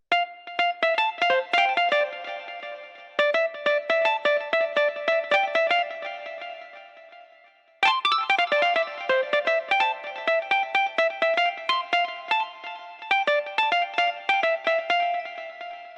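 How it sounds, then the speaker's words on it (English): A Rhodes electric piano plays a solo of quick, bright plucked notes in a deep minimal house track. A short gap comes midway before the steady notes resume, with no talk over them. "Then we have this Rhodes, which sounds like this."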